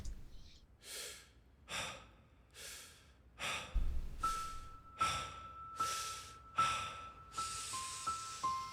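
Slow, audible breaths open the live performance of a song, about ten close, airy inhales and exhales in steady rhythm, with a faint sustained tone entering partway through.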